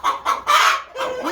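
Chickens in a winter coop near the nesting boxes cluck and squawk in four loud, close bursts, one call rising into a crowing-like note, with no talking.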